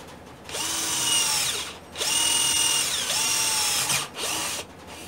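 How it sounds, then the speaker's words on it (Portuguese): A Mondial cordless drill-screwdriver set to screwdriver mode whirs loudly in three close bursts, winding up and down in pitch with short pauses between runs. "Vamos pôr na parafusadeira"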